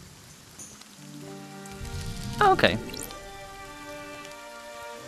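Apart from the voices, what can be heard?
rain falling in the VR video game Deisim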